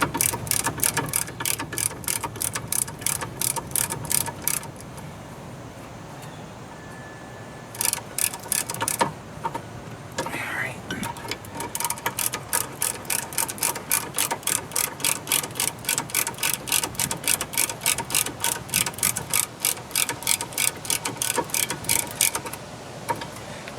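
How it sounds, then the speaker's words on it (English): Ratchet wrench screwing brake caliper sliders back in on a 2011 Nissan Altima's rear brakes: long runs of fast, close clicking, with a brief pause and a short quiet gap midway, no talk. "This is screwing the caliper sliders back in."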